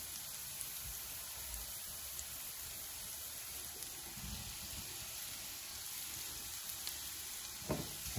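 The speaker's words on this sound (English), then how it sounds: "Okay, we're going to drop our sausage in now." Sausage sizzling in a frying pan while cooking for a breakfast casserole, a steady soft crackling hiss that runs throughout with a few faint pops and stirring sounds.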